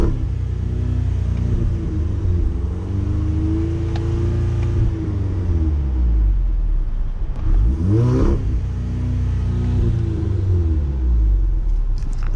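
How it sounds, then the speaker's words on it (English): An Audi TT-S Quattro with a new downpipe exhaust running launch control, its engine held at a loud, droning rev that swells and dips, then surges through a sharp rise and fall, with no voices. "let's see what launch control sounds like"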